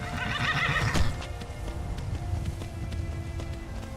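A horse in the Skyrim video game gives one loud whinny near the start, followed by steady clip-clopping hooves and soft ambient game sound.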